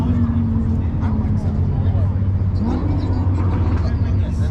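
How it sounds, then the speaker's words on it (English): Audi R8 or Lamborghini V10 engine at a cars and coffee meet at a brewery, a car engine rumbling and rising in pitch as it approaches, heard beneath people talking. "it sounds like either an R8 or a Lambo is about to pull up"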